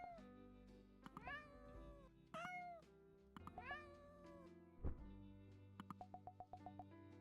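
A kitten in the Spirit Talk game meowing repeatedly, four clear rising-falling mews in the first half, then a short run of rhythmic pulsing tones, over soft background music with no voices.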